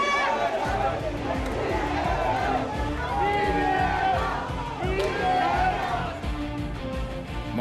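Supporters of Lee Jae-myung cheer at a Democratic Party rally, a dense, continuous wall of crowd noise with whoops and babble running throughout at steady loudness.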